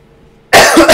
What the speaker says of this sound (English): I'm sorry, I still have a cough.